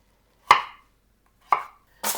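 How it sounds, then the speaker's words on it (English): A knife slicing food into thick half-moon pieces before they go onto a foil-lined pan for chicken enchiladas, heard as three crisp separate cuts about a second apart, close and in a quiet room. "and I slice them a little on the thicker side"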